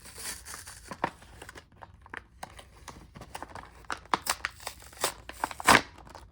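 A Cars die-cast car's card-backed blister package is carefully worked open with a string of close crinkles, crackles and small tearing snaps of plastic and cardboard, irregular and building to a sharper rip near the end.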